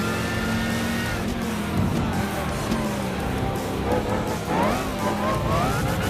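A 1968 Chevrolet Corvette races in Gran Turismo 5, its loud V8 engine roaring and shifting pitch throughout, with tire squeal and other cars blending in a dense, continuous racing din.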